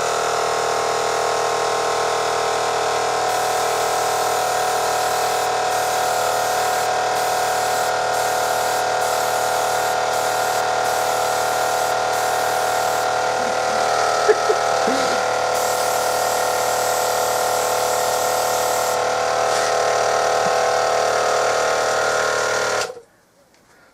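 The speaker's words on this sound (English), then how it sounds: "So let's see if we can keep the pump going." A home-made airbrush compressor pump runs continuously with a steady mechanical hum and buzz, close and fairly loud, before cutting off abruptly near the end.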